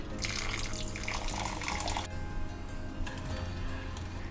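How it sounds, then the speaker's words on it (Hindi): Water pours into a kadhai holding sugar to make a thin syrup for thandai, a splashing, running stream that cuts off abruptly midway, then resumes briefly. "अब एक कढ़ाई में मैं ये शक्कर ले लेती हूँ और ऐड कर देते हैं पानी"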